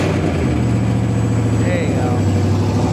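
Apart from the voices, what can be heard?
truck engine running without exhaust, loud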